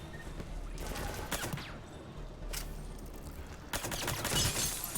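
Grenade blasts and gunfire in the Mass Effect Legendary Edition video game, with several sharp broadband bursts and crackling shots spread across the span amid a constant noisy battle bed.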